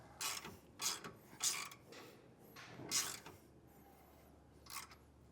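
Bolt being tightened by hand on a TorkLift front camper tie-down on a 2025 Toyota Tundra, with a series of faint, quiet ratcheting clicks and scrapes in uneven bursts; no talking.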